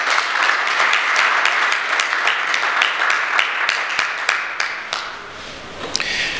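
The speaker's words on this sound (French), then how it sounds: "Je vous prie de les applaudir." Applause from an audience at a graduation ceremony for a solar-energy training course in Thiès, loud and sustained, with dense overlapping claps that thin out slightly toward the end.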